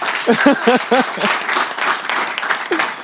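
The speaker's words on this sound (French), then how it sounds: "on applaudit" Someone speaks briefly, then a crowd breaks into steady applause, clapping continuing in a dense wash until the clip ends.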